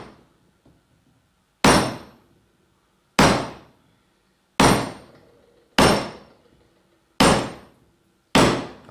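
Six sharp, loud blows strike a chisel cutting straight into the wood of a handmade rocking horse's head at the base of the ear, evenly spaced about 1.5 seconds apart, each decaying quickly into silence.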